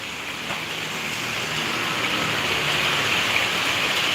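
Steady, dense rain in Madurai hisses throughout, a constant wash of falling water on surfaces, close and fairly loud with no voices.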